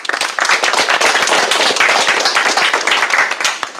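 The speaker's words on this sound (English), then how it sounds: "Let's give them a round of applause." Round of applause from an audience at an academic workshop, dense overlapping hand claps starting abruptly and holding steady and close for several seconds.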